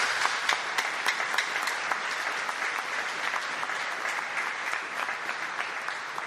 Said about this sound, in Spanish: Demos un aplauso a esas personas.